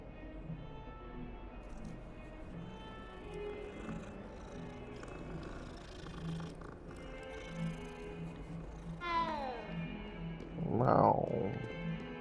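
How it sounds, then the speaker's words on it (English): A cat in the video game Hogwarts Legacy lets out a rising, drawn-out meow near the end, followed by a louder, brighter call, over low game music and ambience. "what do we got here, cat?"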